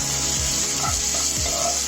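Grated ginger and garlic masala sizzles in a hot pan, a loud, steady frying hiss close up, broken by three or four scraping strokes of a spoon stirring, with no talking.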